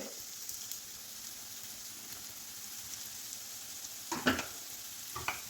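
Two sliced medium onions with crushed ginger and garlic sizzle softly in hot oil, a steady crackle like light rain, with a couple of brief stirring scrapes near the end.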